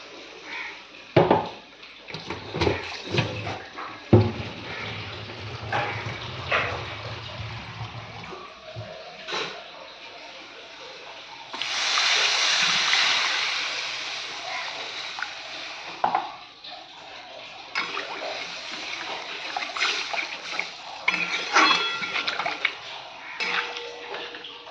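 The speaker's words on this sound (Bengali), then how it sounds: "এবার আমি জল দিয়ে দেবো" Water is poured into a pot of dal in a village kitchen, a rushing splash lasting several seconds, set among clattering pots, utensil knocks and scraping.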